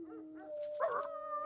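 Dogs howling and whimpering from a dog sound CD, a faint, steady tonal whine with a brief yelping burst in the middle, playing alone.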